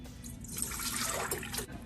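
Cold milk pours into a pan in a home kitchen, a soft liquid splash that swells and then thins over about two seconds, faint and close, with low household hum beneath.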